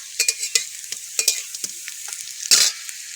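Broccoli and egg chops deep-fry in oil, giving sharp crackling sizzles and stirring clatters in irregular bursts, with a louder sputter near the end; no talk.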